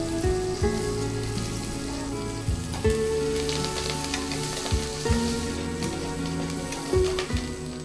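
Onions, turmeric and curry leaves sizzle in a hot pan, a steady dense crackle with sharper pops and clinks of stirring recurring every second or so, close and fairly loud, with music-like tones underneath.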